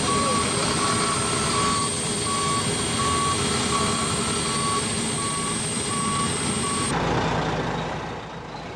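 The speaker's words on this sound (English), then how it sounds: "This is the truck entering the aircraft now." A truck hauling a trailer rolls up a ramp into the hold of an Antonov cargo aircraft, a steady loud engine rumble mixed with heavy aircraft noise, with a regular reversing-style beep sounding throughout before the drone drops off near the end.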